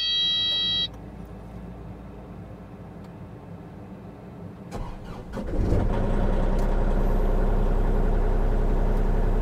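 A mid-sized engine cranks and catches after a few seconds, then settles into a loud, steady close-up idle rumble, with no one talking.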